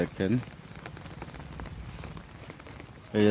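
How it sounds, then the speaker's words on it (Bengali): Heavy rain pours in Barishal beside a flooded road and paddy fields, a soft, continuous patter running under brief bursts of a voice at the start and end. "আমাদের বরিশালে প্রচুর পরিমাণে বৃষ্টি হচ্ছে আজকে।"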